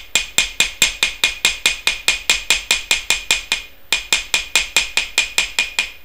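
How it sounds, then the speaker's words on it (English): A planishing hammer with a slightly rounded face strikes a wire paddle in fast, even blows, each a sharp ringing metallic tap, about twenty in a row. The blows break briefly and then continue close and loud. "the best hammer to use is a planishing hammer with slightly rounded"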